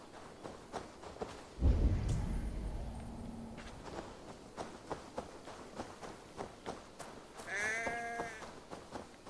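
Footsteps and scuffling movement in Assassin's Creed Valhalla lead to a single short, strained sheep bleat near the end, faint and thin against a quiet game background.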